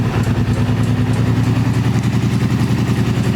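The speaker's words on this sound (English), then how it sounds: "All right, so the four-wheeler's on." Four-wheeler ATV engine running close by, a loud steady rhythmic idle chug with a low throbbing pulse and no voices over it.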